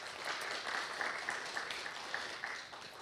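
Modest applause from a church gathering, many hands clapping steadily at a fairly quiet, slightly distant level for about three seconds, with no speech over it.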